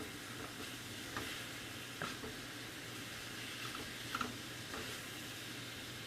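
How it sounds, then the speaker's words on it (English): A spoon stirring Louisiana jambalaya in a pot with fresh garlic, giving a faint steady sizzle with a few soft scraping clicks, quiet and close, no voices. "Give this a stir."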